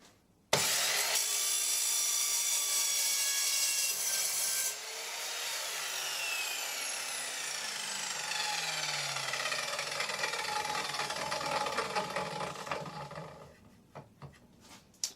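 An Evolution R210SMS mitre saw cuts through wood with screws in it, giving one long, loud, continuous grinding roar that strains and shifts in pitch before winding down, close and with no talk.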